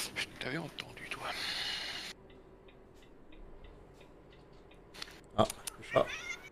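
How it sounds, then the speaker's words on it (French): A cat meows a couple of times, short close cries near the end, after a stretch of quiet and faint ticking, with people talking earlier. "Ah, le chat. Ah oui, le chat."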